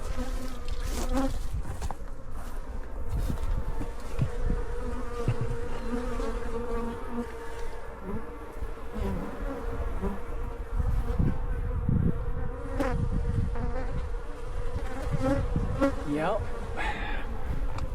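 Angry stinging insects swarm and attack, their buzzing droning continuously and close by, rising and falling as individuals dart past the listener.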